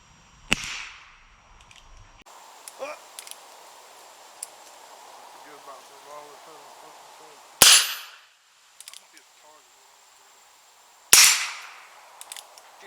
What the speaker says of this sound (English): Did some shooting there